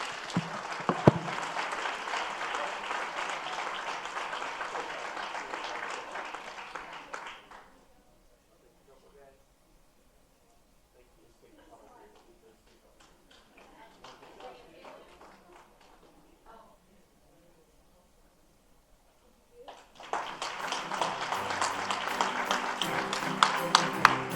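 Applause at a school district honor roll celebration for student champions, loud broadband clapping for several seconds, then a quieter stretch with faint talk, before a second burst of applause.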